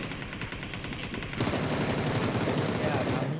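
Rapid automatic gunfire in a shooter game, a steady stream of shots that jumps louder and closer partway through, with a voice reacting faintly underneath.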